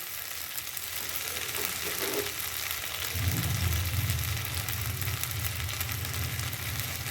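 Ground spice paste frying in a pan for a jackfruit curry, a steady close sizzle and crackle that swells partway through and then holds, with no talking.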